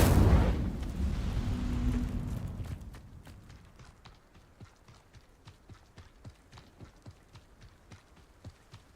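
Incendio fire spell cast in Hogwarts Legacy: a loud whooshing fiery burst for the first three seconds, then fading into a string of quieter, regularly spaced clicks and taps.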